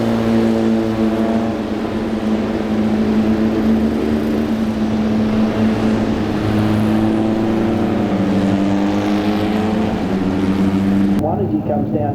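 Race cars accelerating together at a green-flag restart during a WA Sporting Car Club 100K Cup round at CARCO.com.au Raceway, a loud sustained engine roar with steady harmonic drone under continuous commentary, cutting off near the end.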